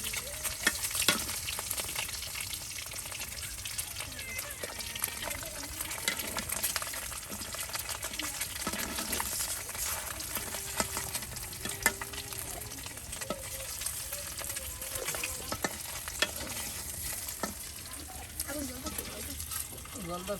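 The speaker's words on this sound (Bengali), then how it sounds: "আর এরপর আলু কুচিগুলো ভেজে নেওয়া হবে।" Chopped potatoes fry in a pan, giving a steady close sizzle with stirring scrapes throughout, cooked after duck eggs on a stormy rainy day.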